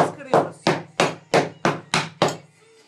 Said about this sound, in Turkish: Güzel de bir çekiç alıyoruz.